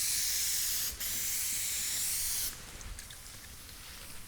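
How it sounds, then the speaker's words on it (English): An aerosol can of wax and grease remover sprays in two long hissing bursts, a brief break between them, then the hiss stops and light handling noises follow. "we're using an aerosol wax and grease remover"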